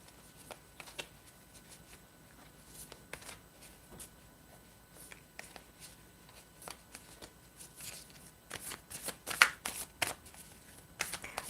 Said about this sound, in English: So I shuffle it continuously because it's new.